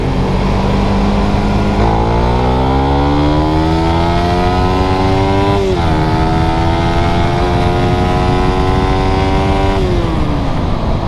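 A Suzuki Satria FU fuel-injected motorcycle engine revs loudly while being ridden, its pitch climbing through gears with shifts and renewed pulls, under steady wind rush.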